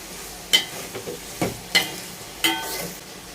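Cluster beans stir-fried in a pan, with a steady low sizzle broken by several sharp scraping clacks of a spatula turning the pieces, spaced irregularly and close by, with no voices.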